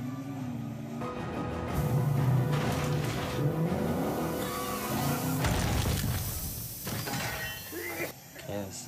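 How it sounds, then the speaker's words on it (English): A computer-generated car crash in a TV show, with engine roar, shattering glass and crunching impacts in a dense mix. People talk over the action. "CGI car crash right there"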